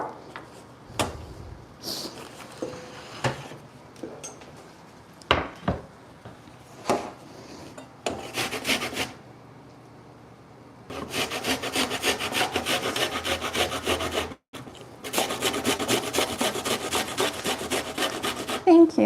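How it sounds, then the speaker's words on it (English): Onions being grated by hand on a grater into a bowl, steady rapid rasping strokes that run continuously after a few scattered knocks and clatters of kitchen prep, briefly pausing once before resuming. "I need this bowl to grate my onions"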